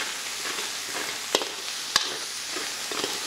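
Onion, garlic and ginger sautéing in a pan for a mussel Bicol Express, a steady soft sizzle throughout with occasional stirring scrapes and two sharp utensil clicks against the pan.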